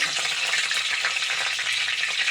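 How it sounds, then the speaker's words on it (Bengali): Bay leaf and dried red chili tempering in hot oil in a kadai, a dense and continuous crackling sizzle that stays loud and even throughout. "এই ফোড়নটা ভাজা হলে এর মধ্যে আমি দেখো এখানে আমার ফোড়নটা সুন্দর করে ভাজা হয়ে গেছে।"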